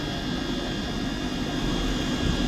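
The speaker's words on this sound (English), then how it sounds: "And arriving in now is the 11:39 Scotrail service from Edinburgh Waverley to Perth." A ScotRail passenger train, unit 158-722, rolls into Edinburgh Haymarket station with a steady, loud diesel engine rumble and broad rushing noise that swells slightly toward the end, with no voices.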